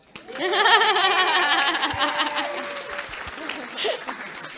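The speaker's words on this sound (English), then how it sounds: "let's clap for Taylor" Wedding guests clap during a maid of honour speech, a steady round of applause rising quickly and holding at a moderate level, with cheers and a few voices mixed into the crowd noise.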